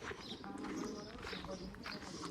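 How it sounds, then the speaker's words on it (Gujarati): Domestic pigeons cooing on a farm with roosters, partridges and horses, their soft coos mixed into steady background clamor and overlapping voices, with other birds chirping faintly. "આપણા કબૂતર છે"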